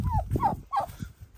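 Lohmann Brown hens mixed with other chickens in a crowded village coop give several short, rising clucks and squawks in quick succession, close and fairly loud, with no talking.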